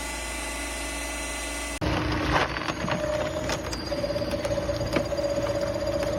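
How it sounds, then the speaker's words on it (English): Hydraulic log splitter driven by an electric motor, its blade forced through a massive log: after a steady machine drone, a loud cracking and tearing of wood fibres with snaps and a rising whine, close and continuous. "The massive log is gradually pushed toward the sharp splitting blade, which slowly sinks in and tears through the wood fibers relentlessly"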